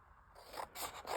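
Scissors trim a sheet of A4 card, giving a few close, dry rasping snips one after another in a quiet room.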